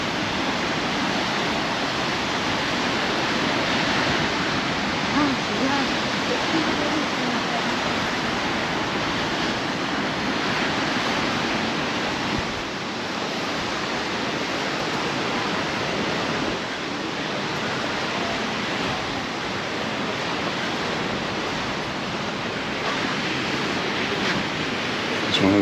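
Sea waves surge and crash continuously onto the shore at Playa de Palma, Mallorca, on a windy day, a dense, steady roar of surf with wind gusting across the microphone and no voices.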